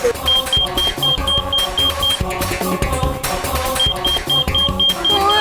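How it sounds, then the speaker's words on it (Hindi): Alarm beeping from a box in a children's superhero TV show, repeating short high beeps in two bursts over busy music and effects. "तो इसका अलार्म भी बज रहा है"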